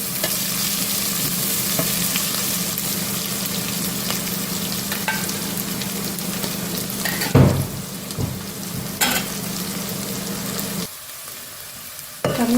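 Four large onions frying in a pan for chicken curry, a loud continuous sizzle close up with a couple of sharp stirring scrapes and knocks, dropping away near the end.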